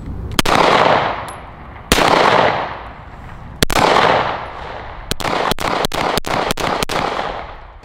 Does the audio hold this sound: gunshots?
yes